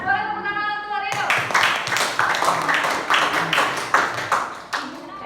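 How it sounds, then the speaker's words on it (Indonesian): Classroom applause for a student named Marino, a dense burst of many hands clapping that starts abruptly and continues steadily, close and loud, with voices mixed in. "Silakan boleh tepuk tangan untuk Marino."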